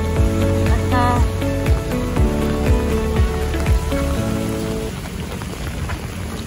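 Steady rain falling outdoors at a railway construction site, a continuous dense patter with loud low rumbles and a sustained tonal hum over it; no talk.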